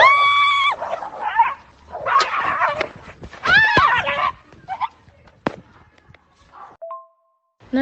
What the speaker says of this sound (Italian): un cane ha aggredito il mio cane